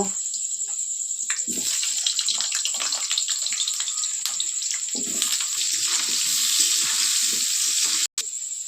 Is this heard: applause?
no